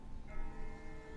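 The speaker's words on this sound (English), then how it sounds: "That's not the same bell as before. This one's further off." Far off in the video game The Walking Dead, a bell rings once as a faint, distant tone held over a low background rumble.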